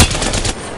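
Rapid gunfire from a video game firefight, a dense burst of shots loud and close that cuts off about halfway, leaving a fainter rumble afterward.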